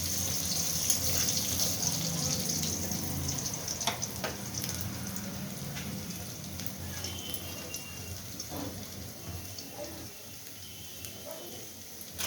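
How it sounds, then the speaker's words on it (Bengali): Chopped onions frying in hot oil in a kadai alongside prawns, a steady broadband sizzle close by with occasional clinks and stirring scrapes, no talk. "আমি এই পেঁয়াজ কুচনো দিলাম"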